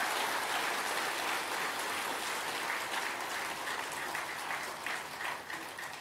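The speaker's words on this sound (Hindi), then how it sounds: "सभी एक दूसरे के उत्साहवर्धन में तालियों की गड़गड़ाहट है।" Thunderous applause from a large crowd at a spiritual gathering, a dense, continuous roar of clapping that holds steady for several seconds and then begins to taper off.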